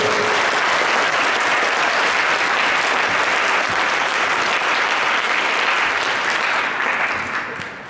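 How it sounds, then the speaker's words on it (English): Loud, sustained audience applause at a student awards ceremony for a Dean Award, a dense, even roar of clapping that holds steady for several seconds before tapering at the end. "if we could give them a round of applause for winning the Dean Award"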